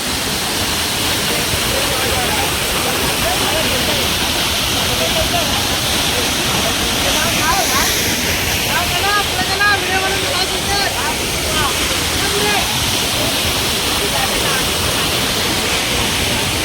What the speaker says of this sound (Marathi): एवढ्या जोरात हा जो धबधबा येतोय.